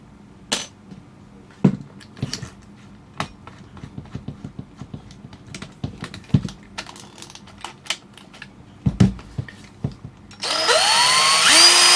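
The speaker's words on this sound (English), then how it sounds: "that will then let you put that into the chuck of your drill" Scattered clicks and taps continue for about ten seconds, then an electric drill whirs loudly and steadily to the end, close by, while installing bearings in a Roomba.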